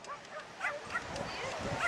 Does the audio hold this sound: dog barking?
yes